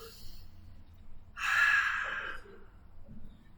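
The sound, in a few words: big breaths during a stretching exercise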